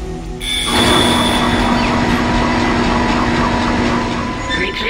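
A damaged tram car in the Dead Space video game starts up abruptly after a brief pause, then a loud, steady mechanical drone with a sustained whine and rail-like rumble carries on without pause.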